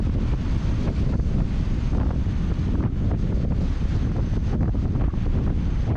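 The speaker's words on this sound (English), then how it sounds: "The Atlantic waves batter the facility" Atlantic waves battering a shore facility where fishing boats are pulled up, heard as a steady loud roar of surf mixed with heavy wind buffeting the microphone, continuous with no talking.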